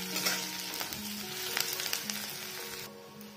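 Onions sizzling and frying in a pan for Odia baigana bharta, a steady close crackle with light stirring clatter, no voices over it.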